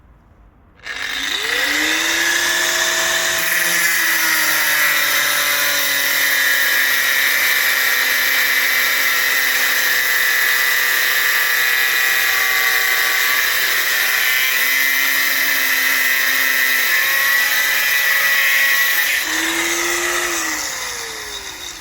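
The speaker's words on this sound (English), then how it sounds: "having one really mediocre angle grinder can sometimes come handy" A cheap, mediocre angle grinder spins up abruptly into a loud, steady high-pitched whine that holds for about twenty seconds before winding down, with no voices.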